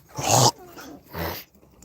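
An all-black female dog with faint brindle specks growls at a kennel in two close, rough bursts, the first longer and louder, the second shorter, with no talking.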